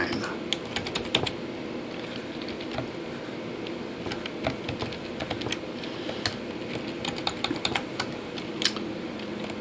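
Code comments being typed on a computer keyboard, heard as irregular light key clicks in quick bursts at a moderate distance over a soft background hum.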